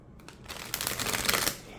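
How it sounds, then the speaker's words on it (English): A quick burst of tarot cards being riffle shuffled, a soft fluttering rattle that builds and then snaps together, close up. "but I can riffle shuffle it"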